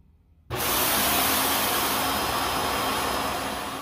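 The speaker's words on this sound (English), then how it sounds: "I was able to run this vacuum fine on its max power mode" A robot vacuum cleaner running on max power mode gives a steady, loud motor whir and airy hiss that starts abruptly after a brief quiet moment and holds evenly, fading slightly near the end.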